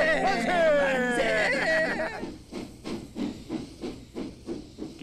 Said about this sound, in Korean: 기차는 인도로 달려갑니다.